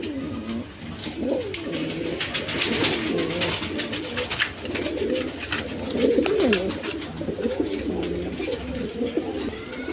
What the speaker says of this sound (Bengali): দর্শক এইখানে এক পেয়ার গিরিবাজ কবুতর আছে, হাই ফ্লাইং কবুতর।